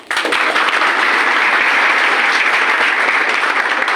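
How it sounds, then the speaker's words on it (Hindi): Loud, steady applause from a crowd, clapping continuously without pause. "भैया की जोरदार तालियां।"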